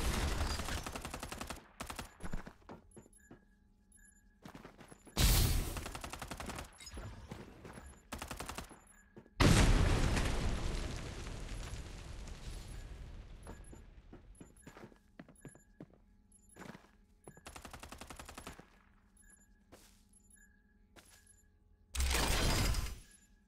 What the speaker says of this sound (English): Time for some artillery.